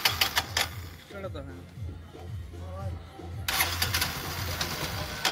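A Bajaj Discover 125 motorcycle struggles to start on a cold morning, its engine sputtering in an uneven, labored rhythm with bursts of cranking noise; someone talks over it partway through.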